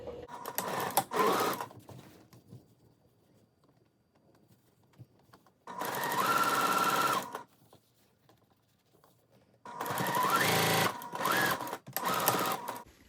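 Three bursts of a domestic sewing machine running fast as it stitches a half-inch seam on fabric for reversible shorts, each lasting a few seconds with quiet gaps between, the motor whirring steadily and close at hand.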